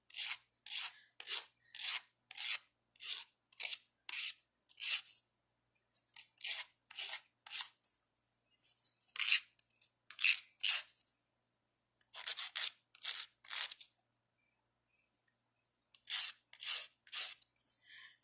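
Quick, crisp snips of jeweler's shears cutting metal come in short rhythmic bursts, with brief pauses between runs of cuts, close and fairly quiet.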